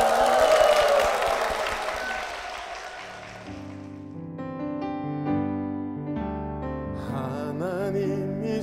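Applause from a church congregation rises loud and dense, then thins out as sustained music notes take over, the clapping fading beneath the melody.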